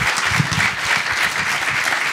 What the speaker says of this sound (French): Je voulais vous inviter à applaudir nos trois intervenants.